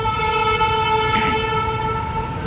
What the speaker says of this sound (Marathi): खाली एक आपलं रेल्वे स्टेशन आहे कासरवाडीचं त्याचा आवाज आला तर तिला वाटलं की आलीच गाडी